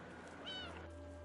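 A cat in the video game Stray gives a single short, clear meow with a rising and falling pitch over steady quiet game ambience.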